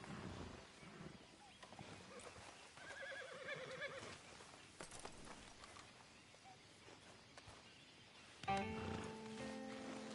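A horse in Red Dead Redemption 2 Online whinnies shrilly amid clattering hoofbeats and ambient game noise, then a louder, sharper neigh breaks out near the end.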